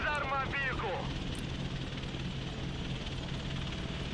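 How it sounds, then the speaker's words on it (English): A helicopter from the Broken Arrow game, a steady engine and rotor drone holding throughout at moderate level, with a brief higher voice-like warble near the start. "Chopper standing by."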